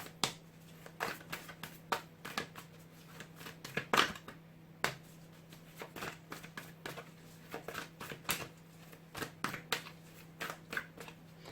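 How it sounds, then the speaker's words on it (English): Tarot cards are shuffled close by in a quiet room, a steady run of soft snapping and riffling clicks with short pauses between bursts. "I'm going to give them 3 more shuffles"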